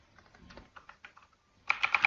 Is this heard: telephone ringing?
no